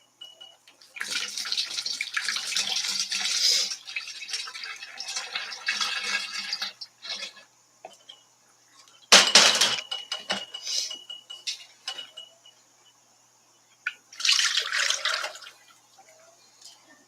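Liquid poured from a large measuring cup into a big funnel in a small production workspace, with bursts of splashing and trickling separated by pauses and a few clinks, close and fairly loud.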